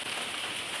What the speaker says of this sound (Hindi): देखिए बारिश हो रहा है नीचे ना, जोर से बारिश हो रहा है।